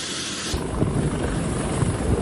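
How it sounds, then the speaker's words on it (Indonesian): A Eurocopter AS565 Panther military helicopter, deployed from the navy ship KRI Semarang 594, flies overhead with a loud, steady rotor and engine roar that stays close and continuous throughout. "helikopter AS565 Panther dikerahkan dari KRI Semarang 594 untuk mendistribusikan bantuan kesehatan dan tim medis ke Lapan Lombu"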